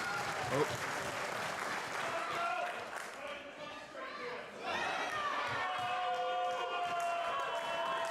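A wrestling crowd at an IPW Ignited show roars and cheers throughout, a dense, steady wash of voices and clapping that swells louder midway, with a commentator's voice carrying over the noise.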